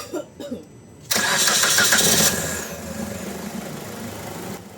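A Suzuki Ertiga engine with an overheating problem cranks and catches with a loud burst, then settles into a lower, steady idle; a few faint voices come just before it starts.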